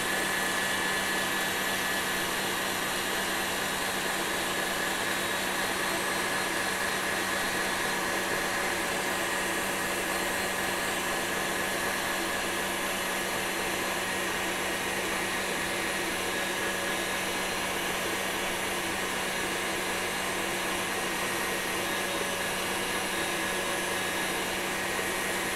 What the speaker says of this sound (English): Just gonna beat it for a little bit longer.